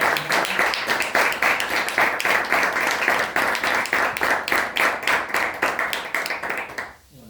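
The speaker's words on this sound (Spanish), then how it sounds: "Un aplauso a usted." An audience at a lecture applauding, with dense, steady clapping that continues loudly and evenly for several seconds before stopping abruptly at the end.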